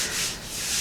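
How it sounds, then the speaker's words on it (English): Hand sanding of body filler on a Model A hot rod shop truck cab, a steady close-up abrasive rubbing with gentle rises and dips in loudness through the short stretch. "I gotta keep sanding at it."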